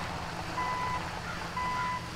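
Tow truck reversing in the video game GTA 5: two steady electronic backup beeps sound in turn over a constant low engine hum, with no talking.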